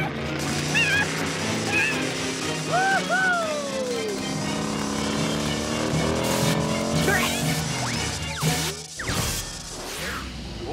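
A cartoon car drives along with a steady engine hum, tire squeals and whooshes, plus a crash near the end, while voices and chirpy effects sound over it.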